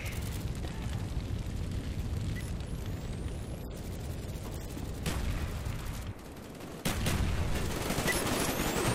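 A napalm strike in Call of Duty Black Ops multiplayer on PS3 sets off rumbling explosions and crackling fire mixed with scattered gunshots, a sustained roar with sharper bursts near five and seven seconds.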